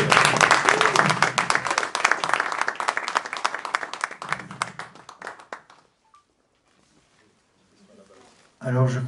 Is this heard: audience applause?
yes